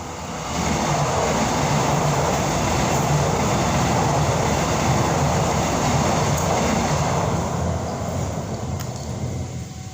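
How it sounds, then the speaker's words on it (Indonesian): A train rumbles past nearby, a loud steady roar of rolling wheels and carriages that swells in, holds for several seconds and then eases slightly, with no voices. "Maaf ada kereta lewat."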